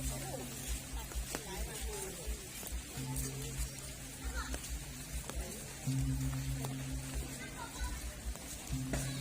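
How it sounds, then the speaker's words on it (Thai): Steady rain falls at a Thai temple on an October day, a continuous broadband patter with occasional drip-like clicks running throughout, while someone speaks over it. "วันนี้วันนี้ฝนตกนะคะ"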